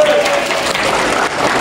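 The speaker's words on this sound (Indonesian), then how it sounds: "Yes, tepuk tangan." Brief burst of group applause from attendees at a housekeeping service-excellence training session, a steady wash of clapping hands lasting just over a second.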